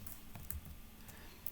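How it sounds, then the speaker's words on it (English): Quiet, close keystrokes on a computer keyboard as commands are typed into a Linux terminal: irregular soft clicks and taps scattered over a second and a half, faint and alone. "here we can type any commands"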